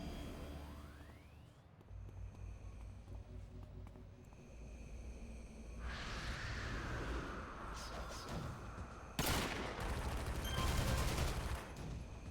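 Sniper rifle fire in the video game City of Heroes, a sharp loud shot cracking out late among whooshing and rumbling game effects, fairly quiet overall.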